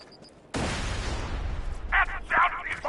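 A sudden loud blast from the Borderlands 2 video game erupts after a quiet start and rumbles on as a sustained roar, with a voice breaking in over the tail end.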